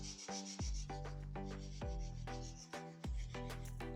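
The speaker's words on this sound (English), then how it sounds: "I'm using a 180 grit sandpaper." An old rusty bike cable is rubbed with 180 grit sandpaper in a series of quick, close back-and-forth strokes with a raspy, slightly squeaky tone, heard alone.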